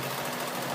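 A sewing machine stitches a denim pocket in a short, fast, even burst of rapid mechanical clatter, close and continuous.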